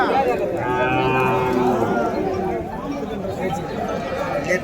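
Cattle lowing at a busy cattle market in Vaniyambadi, with a long drawn-out moo up close, crowd chatter behind it, and someone talking over the scene.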